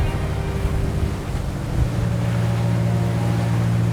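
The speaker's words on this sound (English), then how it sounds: "let's head towards the open seas and let's start testing how this boat navigates" A Tesoro T40 motorboat engine drones steadily at close range at sea, its hum rising in pitch partway through, with water rushing against the hull.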